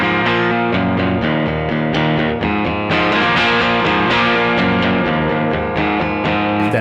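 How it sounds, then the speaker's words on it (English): A distorted electric guitar plays sustained, ringing chords through a plate reverb on an HX Effects unit, with a wide, shimmering reverb tail, steady and loud throughout. "plate reverb on again."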